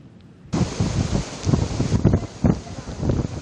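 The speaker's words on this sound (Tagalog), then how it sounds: "patuloy ang nararanasang pag-ulan at minsan ang paglakas ng hangin" Strong gusting wind and rain from a typhoon buffet the microphone outdoors on the coast of Northern Samar, in rough, surging bursts, with a roar like heavy rain or surf underneath.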